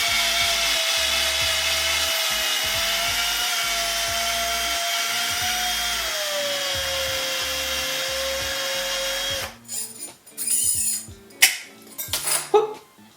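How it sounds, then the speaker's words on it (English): A power drill whines steadily for about nine seconds while drilling out a metal stop bar on a Gretsch G5260 baritone guitar, pitch dipping slightly under load, then stops, followed by clattering metal handling noises. "So I'm going to grab my drill."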